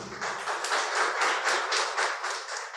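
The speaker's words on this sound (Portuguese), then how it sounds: "Você pode aplaudir o Senhor Jesus?" A church congregation applauds together, a steady wash of many hands clapping in a fairly even rhythm, sustained and moderately loud throughout with no voices standing out.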